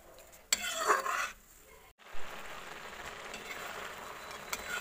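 Apple halwa simmering with milk in a pan, stirred with a spoon that scrapes and clinks against the metal in short bursts, over a steady low bubbling sizzle.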